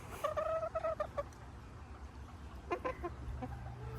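Backyard chickens cluck in short bursts of rhythmic calls, fairly faint and at a moderate distance, with quiet gaps and low background noise between bursts.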